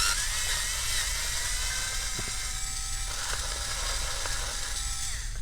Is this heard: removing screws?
yes